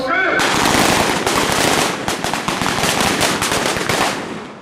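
Parade contingents fire a celebratory rifle volley at an Independence Day ceremony at a police line ground in Bhind, India: a dense, loud, rapid crackle of many overlapping shots that rolls on for several seconds before slowly fading.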